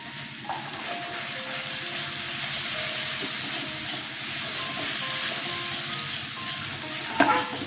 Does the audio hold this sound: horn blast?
no